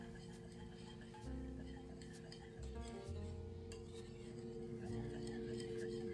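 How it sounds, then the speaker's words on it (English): A whisk clinks and scrapes steadily through key lime pie filling, spiked with tequila, as liquid gelatin is stirred in, with light metallic ticks against the bowl over a constant electrical hum, close and fairly quiet. "I'm going to continually whisk as I stir this liquid gelatin in"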